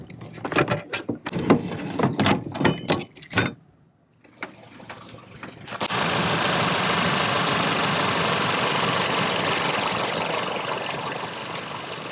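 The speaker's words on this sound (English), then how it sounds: "So it's time to pump the tyres up." Compressor pumping up vehicle tyres on an outback track in Australia, starting with a few knocks and clatter, then a steady loud droning hum running continuously for the second half of the clip.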